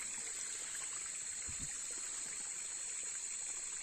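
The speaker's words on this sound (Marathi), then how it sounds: "हा ओढा बारीकसा ओढा आहे छोटासा" A small, narrow stream trickling in the Konkan countryside during the first rains of May, a steady continuous watery rush that stays faint and even throughout, with a brief low thump near the middle.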